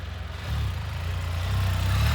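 Engine of a used 2018 Can-Am Spyder F3 T three-wheeler with automatic transmission, a steady close low rumble that swells slightly louder after the first half second and holds.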